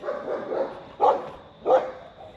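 Dogs bark on a morning walk along a local path in Cherry Gardens, Jamaica: two loud, close single barks about half a second apart stand out over ongoing background chatter and outdoor ambience.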